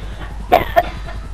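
Two short, sharp coughs from a character in the GTA V video game, close and distinct over a low, steady background hum.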